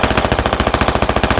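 A tank's coaxial machine gun in a military video game fires a long, sustained burst of rapid, evenly spaced rounds, loud and close with no talk over it.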